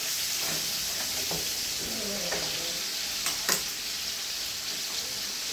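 Chicken breast frying in a pan for tikka masala, a steady close hiss and sizzle with a few soft scrapes and a brief louder crackle as the meat is turned.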